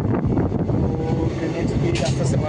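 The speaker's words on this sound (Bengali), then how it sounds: "তো ট্রেনের স্পিড আস্তে আস্তে বাড়ছে" The Teesta Torsha Express passenger train picking up speed, giving a continuous loud rumbling roar with rattling and metallic clatter, plus a brief higher squeal near the end.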